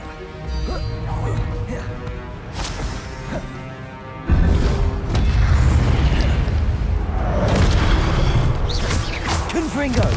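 Blasting-spell explosions go off in the Hogwarts Legacy video game, a loud booming impact arriving mid-clip and holding a dense, rumbling roar over busy game music and effects, with a person speaking over the action.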